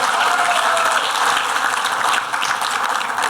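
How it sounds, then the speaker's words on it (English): Applause from an audience at a business leadership summit, a dense, loud wash of clapping that continues steadily for a few seconds with a brief dip near the end. "It's a rousing applause."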